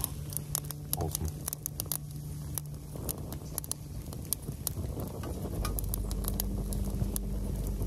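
Raindrops begin falling outdoors at a camp site where a flat-pack stove fire is being lit, a scattered, crisp pattering that thickens over several seconds with a low steady rumble underneath.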